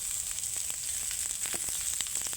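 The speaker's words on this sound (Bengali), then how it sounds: "সরষে তেল দিচ্ছি।" Mustard oil sizzles steadily in a pan where bitter gourd and potatoes were sautéed, in oil already used to fry bhola fish, with a constant hiss and scattered sharp crackles and pops throughout.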